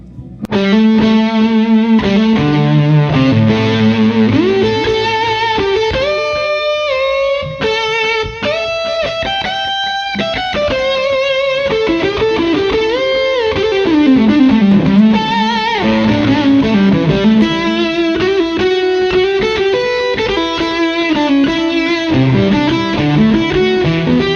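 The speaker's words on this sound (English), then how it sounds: "really like the sound of the Fuzz Face on its own without any pedals in front of it" An electric guitar through a Fuzz Face pedal alone plays a loud, thick fuzz tone, with sustained distorted chords and bending melodic lines that carry on continuously with no voices.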